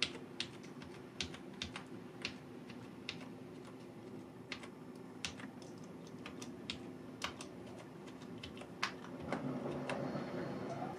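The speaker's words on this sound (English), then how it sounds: "You can hear the keys." Keys on a Logitech G213 Prodigy gaming keyboard are pressed in an irregular run of sharp, close clicks and taps over a low steady hum, with no talking.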